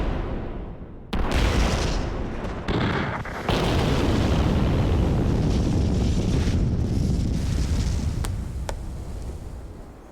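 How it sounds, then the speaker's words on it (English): An explosion set off under a lake sends out a shock wave: a sudden heavy boom jumps in, then a dense, sustained roar and rumble of churning water and debris that rolls on for several seconds before slowly easing. "This is one of the loveliest shots of an explosion I think that we have ever gotten."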